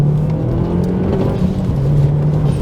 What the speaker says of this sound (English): Oh, you can just hammer through the gears, just like with my 3-litre R, but with that turbo boost.